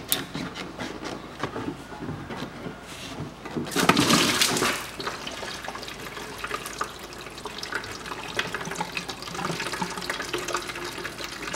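Antifreeze drains from a removed lower hose on a 2005 Peugeot 407 1.8 engine, a steady close liquid trickle and splash with a brief louder gush near the start and faint handling clatter, no talking.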